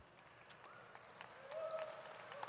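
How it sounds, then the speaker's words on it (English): Faint, scattered clapping from an audience at a university commencement ceremony, light and distant with a few louder claps that swell slightly toward the end. "You haven't heard anything yet and you're applauding"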